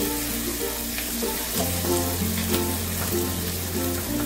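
Green chilli paste and spices fry in a pan, a continuous dense sizzle with stirring scrapes and a low hum underneath, steady and close.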